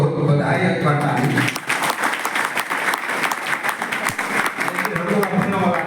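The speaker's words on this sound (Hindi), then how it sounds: "बहुत बहुत बधाई और ताली।" Voices are heard briefly, then a ceremony audience breaks into applause, a dense run of clapping that continues to the end.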